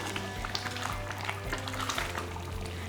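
A tomato egg gravy bubbles in a pan as it is stirred, a soft continuous sizzle with light scraping, low and steady throughout.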